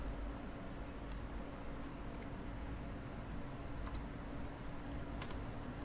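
A search is typed on a computer keyboard: faint, sparse key clicks in small clusters over a low steady hum, with no speech.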